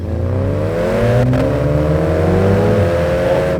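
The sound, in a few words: Mini Cooper JCW exhaust note while revving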